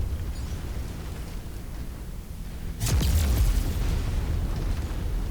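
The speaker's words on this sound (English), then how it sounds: "This has been the most obstructive artillery I've ever faced. And it's just landing walls of it right between me and where I'm going." Artillery shells bursting around a mech in the video game MechWarrior 5: Mercenaries, a sudden loud boom midway followed by a rolling, sustained wall of blasts over a low ambient rumble.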